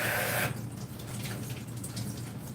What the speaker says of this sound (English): It's rinsing in cold water.